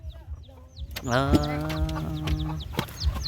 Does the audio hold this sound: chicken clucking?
yes